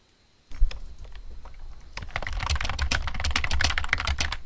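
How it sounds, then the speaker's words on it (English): Typing on a computer keyboard, a quick irregular patter of key clicks close by that starts sparse and grows into dense, steady typing. "Just a little bit of noise of her typing on her keyboard"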